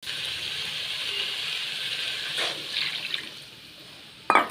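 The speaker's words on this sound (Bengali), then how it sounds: "তো দেখো বন্ধুরা জলটা দিয়ে দিলাম।" Water is poured into a frying paneer curry pan, giving a steady rushing, hissing pour that surges midway, tapers off, then ends with a short clatter.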